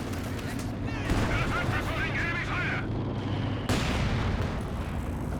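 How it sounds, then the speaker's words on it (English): Artillery barrage from the bunker busting barrage ability in Company of Heroes 2, a dense, continuous roar of distant explosions and gunfire filling the whole stretch, with a sharper blast near the end, under steady game ambience. "he's using the bunker busting barrage"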